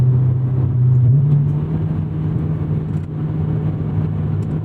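Honda S2000 AP2 engine revving up, a steady mid-pitched drone with a brief rise in pitch near the start, close and loud throughout with no talk.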